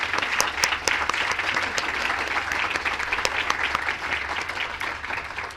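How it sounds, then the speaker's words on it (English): A dense, sustained round of applause from an audience at an environmental awards ceremony, loud and steady for several seconds before easing slightly toward the end. "give these folks a round of applause just for their efforts"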